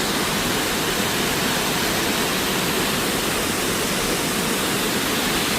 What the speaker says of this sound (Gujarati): પાણીનો અવાજ ખાલી ફીલ કરે છે